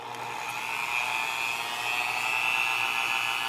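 A small rotary tool sands the edge of an Insta360 camera part, giving a steady high-pitched whine that holds for the whole stretch at fairly high volume, with no talking.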